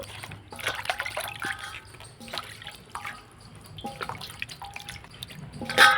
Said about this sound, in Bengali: বাঁধাকপিটাকে আমি হাত দিয়ে ভালো করে এভাবে করে ধুয়ে নেব